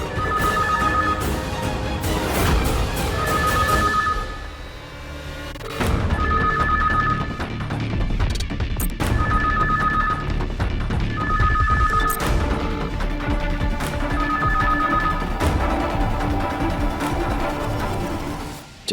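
A telephone ringing indoors in a home, its bell sounding in repeated bursts with short pauses between rings, loud and close over a steady background.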